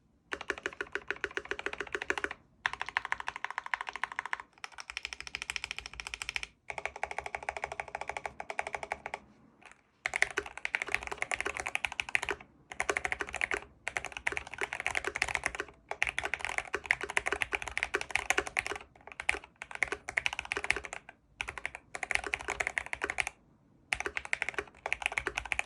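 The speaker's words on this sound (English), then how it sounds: "I'm gonna do like a quick sound test, I guess, for you guys, so you guys can kind of hear what my keyboard sounds like." Steady typing on a GMMK Pro custom mechanical keyboard, a dense run of close clacky keystrokes with a few short pauses, heard alone.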